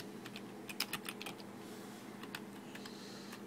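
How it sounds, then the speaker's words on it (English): Light clicking of a computer keyboard as a short word is typed, with quick uneven keystrokes, faint and close over a soft room hum, no voices. "grab our text here, and let's type in the words"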